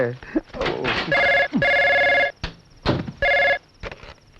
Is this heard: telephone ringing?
yes